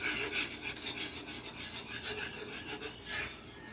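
A spoon scrapes and stirs a thick milk gravy in a pan with quiet, rhythmic rasping strokes, soft and close, with no voices.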